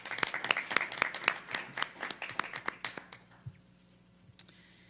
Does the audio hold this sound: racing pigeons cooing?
no